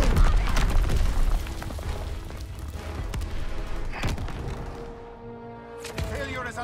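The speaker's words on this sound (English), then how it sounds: "Enemy mortar fire incoming" Enemy mortar fire in Call of Duty WWII, with heavy booming explosions and rumbling blasts that pound continuously and loudly, sharp impacts punctuating the din, amid battlefield gunfire.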